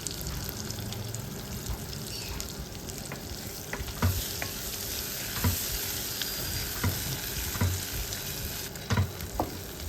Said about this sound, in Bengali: এবারে যে আমি পোস্ত আর সর্ষে এবং কাজু বাদামটা বেটে রেখেছিলাম সেই পেস্টটাকে পুরোটা দিয়ে দিচ্ছি।